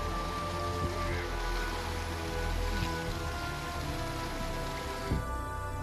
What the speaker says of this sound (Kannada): ಕೇರಳದ ವಯನಾಡು ಭಾಗದಲ್ಲಿ ಧಾರಾಕಾರ ಮಳೆಯಾಗ್ತಿರೋದ್ರಿಂದ